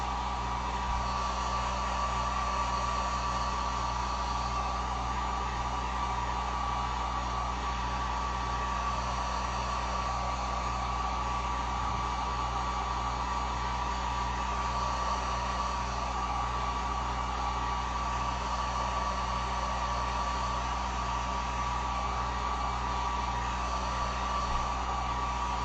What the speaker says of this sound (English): let me throw the heat gun real quick here